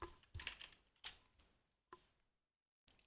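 Code being typed on a computer keyboard: short bursts of quiet, close key clicks separated by brief pauses, with no talking.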